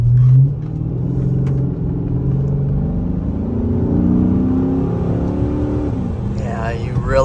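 A Chrysler 300C SRT8 accelerates hard along a straightaway, its engine rumbling loudly and rising in pitch through the gears, heard from inside the car with a voice faintly over it.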